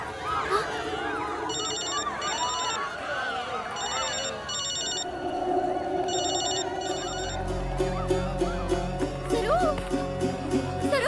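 A mobile phone rings in a tense Telugu film scene, its electronic trill repeating in short bursts while people talk urgently and music swells underneath.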